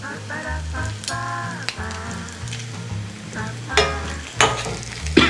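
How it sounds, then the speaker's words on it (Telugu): Crushed dried red chillies frying on high flame for street-style Apollo chicken, a steady loud sizzle with stirring clatter and a few sharper scrapes near the end, under background music. "కొంచెం హై ఫ్లేమ్లో పెట్టుకుని ఫ్రై చేసుకోవాలి."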